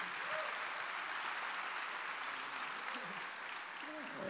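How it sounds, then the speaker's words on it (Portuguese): Steady applause from a church audience welcoming a visiting pastor from Curitiba, a dense even wash of clapping with a few voices calling out beneath it. "Vamos aplaudir, receber bem o curitibano."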